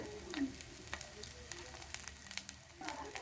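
Curry leaves sizzling in hot oil for a stuffed brinjal curry, a faint steady crackling fry with scattered sharp pops, close and alone.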